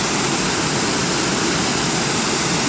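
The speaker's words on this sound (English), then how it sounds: "We came across this waterfall here." Waterfall along the Basin Trail in Franconia Notch State Park, New Hampshire, a steady, dense roar of rushing water heard close up and unbroken throughout.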